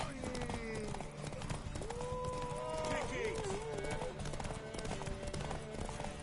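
Galloping horse hooves clip-clop in The Witcher 3 during a race, beating fast and rhythmic under game music and character voices.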